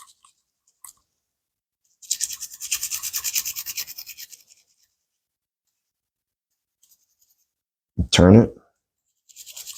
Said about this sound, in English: we're going to take our guide rod and spring and we're going to brush that